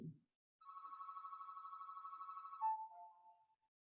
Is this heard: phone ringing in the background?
yes